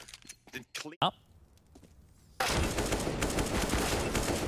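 Counter-Strike: Global Offensive pistol-round gunfire: a few sharp isolated shots and clicks early on, then a sudden loud, dense burst of continuous rapid firing, with commentator voices talking over the action.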